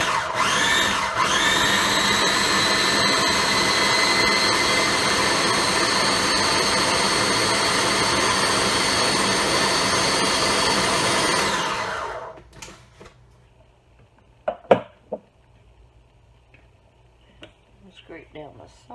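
A kitchen food processor with its lid on whirs steadily at high speed while pulsing mozzarella and other ingredients, running loud for about twelve seconds before stopping, followed by a few faint clicks and knocks.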